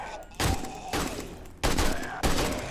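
Four loud, separate bursts of AK rifle fire in the video game 7 Days to Die, each a sharp, close crack followed by a brief tail, spaced with short pauses between them.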